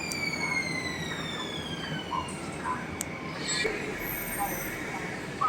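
A BTS Skytrain arriving at Mo Chit station in Bangkok, with a steady broadband rumble of the approaching train and high squealing wheel and brake tones that glide down in pitch.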